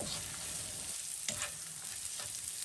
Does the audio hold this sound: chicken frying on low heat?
yes